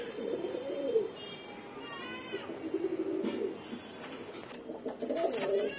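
Low, rounded cooing from Madrasi pigeons in a loft of several newly paired birds, repeated soft murmurs rising and falling throughout, with chirpy bird calls and someone speaking intermittently nearby.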